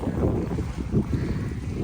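Light wind blows outdoors, a low continuous rumble and buffeting across the microphone for a couple of seconds, with no other sound standing out.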